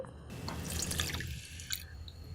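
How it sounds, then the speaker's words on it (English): Half a cup of water pours and splashes briefly into a pan, a short close rush of liquid that trails off into faint dripping. "I'm going to add half cup of water"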